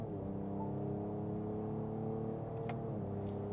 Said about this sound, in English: You can really hear the difference in that exhaust note, can't you? It's quite loud actually.